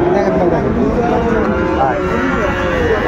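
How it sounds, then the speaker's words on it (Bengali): A Sahiwal bull at a cattle market gives a loud, sustained low moo close by, wavering in pitch, over a busy crowd murmur and voices. "এই যে শাহিওয়ালা ষাঁড়।"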